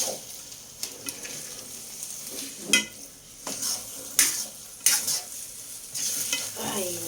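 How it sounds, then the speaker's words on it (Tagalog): A sticky homemade snack mixture is stirred in a pan, with repeated scraping and clacks of a utensil against metal over a soft background sizzle, close and fairly loud in uneven bursts. "Pahirapan na ng paghalo kasi talagang malagkit na."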